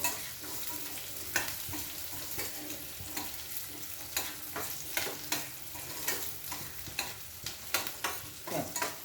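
Dal and peanuts roasting in a pan for poha, with repeated scraping stirs in a steady rhythm over a soft, dry sizzle.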